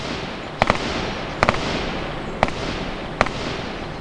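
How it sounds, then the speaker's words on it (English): MP5K submachine gun shots in DayZ, fired at 200 meters: four distant, sharp single cracks, some doubled, spaced about a second apart over a steady hiss of ambient noise. "here on this slide, we have the MP5K being fired at 200 meters."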